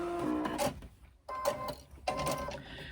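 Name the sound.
sewing machine back stitching a welt into lining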